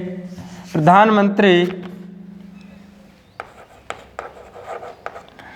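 Chalk or marker scratching on a classroom board during a maths lesson, a few short scraping strokes with irregular taps, heard after someone speaks briefly.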